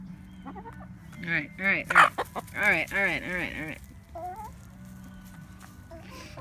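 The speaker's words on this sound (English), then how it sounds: "I love this bird so much, this chicken right here." A hen named Blue clucks repeatedly among a backyard chicken flock, a close run of rising, squawky calls that peak and then trail off into softer clucks, with a person briefly speaking nearby.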